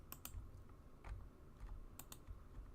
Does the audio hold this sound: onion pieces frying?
no